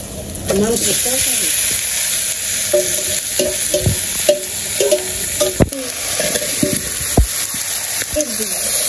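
Meat stirred and fried in a pan for an Eid home-cooked meal, a steady close sizzle with repeated scraping strokes of a spoon against the pan and occasional knocks.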